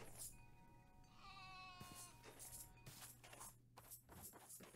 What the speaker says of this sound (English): The creepy mountain dwelling goat creatures?